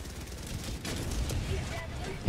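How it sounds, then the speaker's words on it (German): Gunfire in the Helldivers 2 shooter game, dense overlapping bursts of shots and explosions forming a continuous rattling barrage, moderately loud, with faint voices mixed in. "Hier sind immer Schüsse, ey."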